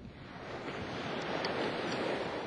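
Ocean waves roll in at a beach, a soft, steady wash of moving seawater that swells gently and stays faint throughout, with no voices.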